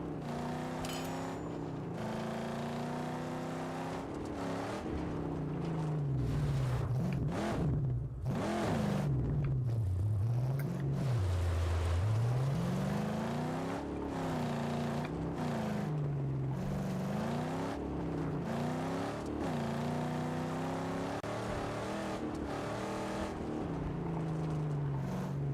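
A car engine roars and revs continuously in the Mad Max video game, its pitch rising and falling through gear changes with heavy rumbling as the vehicle takes damage, loud and close throughout.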